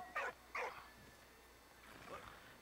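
A dog in the video game Valiant Hearts gives two short, sharp barks close together, followed later by a softer whimpering yip, over quiet game ambience.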